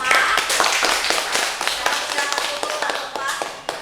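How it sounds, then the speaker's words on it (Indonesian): A classroom group claps for a presenting team, with sharp, uneven hand claps at close range that are loud at first and then taper into scattered claps. "tepuk tangan untuk kelompok 4"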